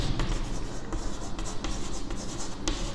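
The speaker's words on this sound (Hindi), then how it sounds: "तो यहाँ पे मैं एक स्टेटमेंट पी फिक्स करता हूँ। The Himalayas are highest mountains, तो मैं यहाँ पे लिखता हूँ" Marker or chalk writing a statement on a classroom board, a continuous scratchy stroke sound with short pauses between letters, close and steady throughout.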